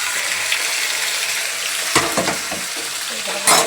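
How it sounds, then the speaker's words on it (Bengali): Red-fried spice paste sizzles steadily in a pan while bathua greens with prawns are cooked, broken by a few sharp stirring scrapes and a louder burst near the end, with no talk. "এখন পেস্টটা লাল লাল করে ভাজা হয়ে গেছে।"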